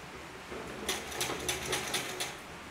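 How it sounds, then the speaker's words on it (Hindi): A domestic sewing machine runs in short bursts while stitching pleats into a dhoti salwar, about six quick rattling pulses close by over a faint background hum. "तो देखिए इन प्लेटों को हम इस तरीके से पूरा भर लेंगे सिलाई लगा के"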